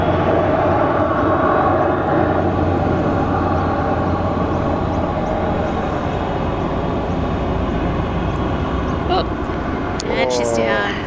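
An airplane lands at Sydney International Airport on runway 16 right, with a loud, continuous engine roar heard from nearby that holds steady throughout, while people talk over it.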